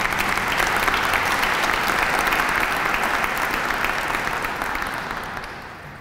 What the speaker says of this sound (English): Let's have a round of applause for the Italian American clubs.